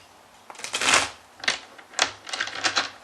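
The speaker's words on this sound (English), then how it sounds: "So I shuffle all my decks before I turn the camera on." A deck of tarot cards is shuffled by hand in several quick riffling bursts, close and crisp, separated by short pauses.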